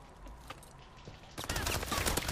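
Pistol fire in a video game sounds in quick, sharp bursts that grow louder and denser during the final second, following a quieter stretch with a few faint shots.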